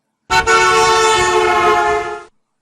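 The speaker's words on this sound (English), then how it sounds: "The horn to you might sound something like this." A single loud car horn blast from a passing car sounds close by and holds for about two seconds before cutting off.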